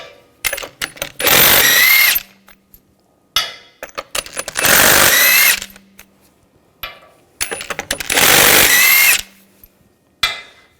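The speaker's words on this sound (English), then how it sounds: "Take the lug bolts out." Impact gun with a 19mm socket removing lug bolts from the rear wheel of a 2000-2006 BMW X5, three loud bursts of rattling hammering separated by clinks and pauses.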